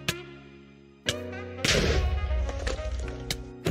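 A sharp thud, then a second hit and a loud booming blast with crackling debris from a Minecraft creeper explosion, over a low hum.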